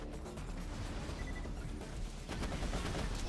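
Borderlands 2 gunfire from whole magazines being emptied: a dense, continuous rattle of rapid shots with no pauses, getting louder and busier near the end.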